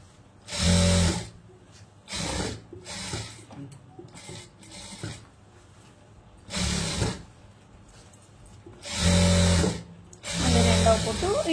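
Sewing machine stitching a lined blouse at a tailoring class, running in several short bursts between pauses and sitting near and fairly loud, with talk in the quieter gaps.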